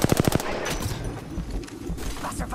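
Gunfire in Apex Legends: a quick burst of rapid automatic shots at the start, followed by busy game noise and scattered shooting with a voice talking over it.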